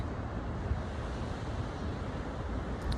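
Ocean waves wash in a soft, continuous surf on a calm day, heard at a moderate distance under light wind rumble, with no talking.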